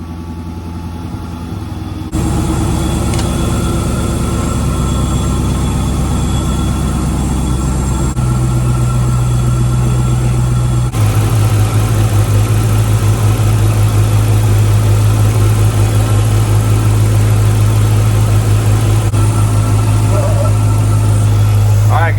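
A Dodge Charger SRT8 engine idles close by, a loud continuous low rumble that steps up in pitch and intensity after a short quieter start, holding a steady droning hum throughout.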